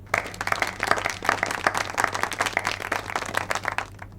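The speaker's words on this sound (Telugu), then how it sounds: "అతనికి క్లాప్స్ కూడా" An office group applauds a new employee, giving a brisk burst of many hands clapping at a steady pace for a few seconds over a low hum before it fades.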